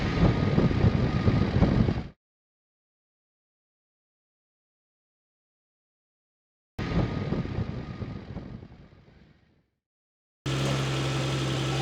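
Engine and road noise from a Datsun 280ZX on the move comes in two bursts separated by silent gaps; the second fades out before a final steady stretch of engine hum.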